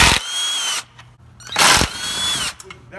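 A power tool spins out transmission bolts on a Nissan 350Z during an LS swap, two loud whirring bursts with a pause between and a third starting at the end, close up.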